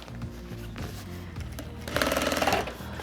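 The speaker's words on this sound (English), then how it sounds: "Make sure that all of my seam allowances are pointed away from the center back line, and do my understitching." Sewing machine understitching a pleat seam just inside the seam allowance, a short run of rapid mechanical stitching that speeds up near the end, close and clear, no talking.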